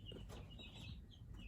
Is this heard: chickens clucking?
yes